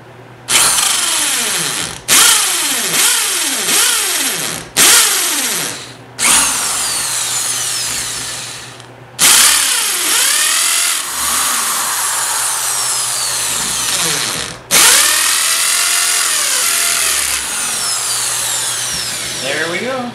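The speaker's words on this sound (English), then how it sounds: "Now I'm just going to go ahead and drill the holes for the bolts." A power drill bores bolt holes through three clamped rag joints for a DIY e-bike build, with about six loud close bursts of whining motor that rise and fall, separated by short pauses.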